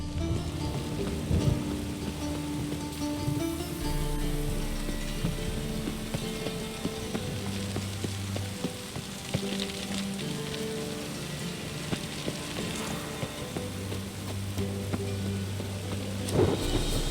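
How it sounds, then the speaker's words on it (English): Rain and a thunderstorm in the video game The Witcher 3, with steady rainfall, low rumbling thunder, clicking mechanical sounds and a musical drone underneath, and no speech. "A storm, damn it."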